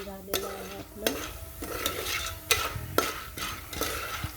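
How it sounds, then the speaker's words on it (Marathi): A utensil scrapes and stirs popcorn kernels in oil around a metal pressure cooker in repeated strokes, about once every half second, over a soft background sizzle. "दोन मिनिट अशा प्रकारे मिक्स करून"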